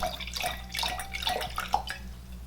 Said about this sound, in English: Graceful pour.